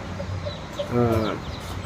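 A Bhimavaram breed hen gives a short, fairly close clucking call among her chicks, with faint high peeps around it and no talking.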